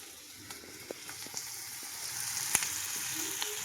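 Pasta frying in a pan while being stirred, with a continuous close sizzle and occasional small scrapes and ticks from the utensil.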